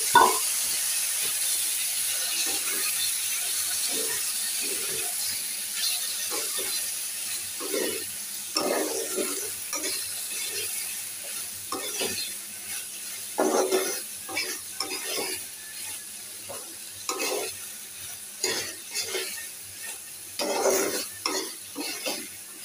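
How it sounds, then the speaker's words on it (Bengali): Onions and potatoes hiss and sizzle in a pan while a spoon stirs them repeatedly, with clattering scrapes over a steady frying hiss that rises and falls with each stir; no voices. "দেখো পেঁয়াজটা ভেজে নিলাম, আর এই যে আলুটা দিয়ে দিচ্ছি"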